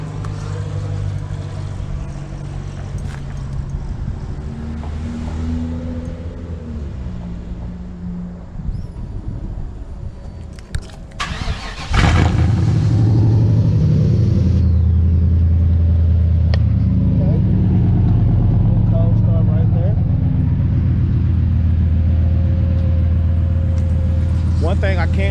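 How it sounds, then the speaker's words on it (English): A car engine cold-starting after exhaust pipes were welded back, a loud steady rumble kicking in abruptly halfway through and idling on strongly, with a person talking and wind noise beforehand. "let's see if we can get a little cold start"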